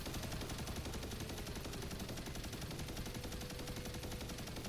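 Rapid sustained machine gun fire in the Destiny 2 video game, a continuous dense stream of shots at steady rhythm, fairly faint and heard alone without voices.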